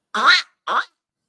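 A man vocally imitates a duck quack, giving two short nasal quacks close to the mic, the first longer and the second clipped, with silence after.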